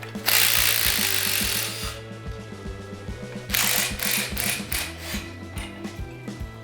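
A jack raises a 4-speed truck with rhythmic ratcheting clicks, each pump stroke producing a quick mechanical clatter, close and steady, with bursts of broadband noise around it and no one talking.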